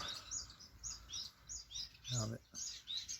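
A silverbill in an outdoor aviary gives repeated short high chirps in a quick, uneven series, fairly near, with other faint bird calls and a brief low vocal sound midway.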